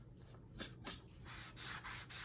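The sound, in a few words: sanding guitar body up and down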